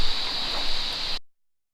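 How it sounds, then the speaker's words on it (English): Steady broadband hiss of rain falling in the Borneo rainforest at Sandakan, dense and even, cutting off abruptly after about a second. "Oh, the rain's coming now."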